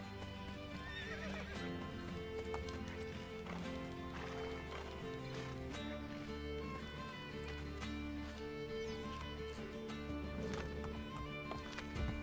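Horse hooves clip-clop at a running gallop with repeated neighs and whinnies in Assassin's Creed Brotherhood, set over a continuous musical game score, close and loud throughout.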